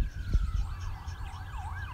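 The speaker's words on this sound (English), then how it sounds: "That may have been a police siren." A distant police siren wails in a rising and falling pattern, faint but clear over a low outdoor rumble.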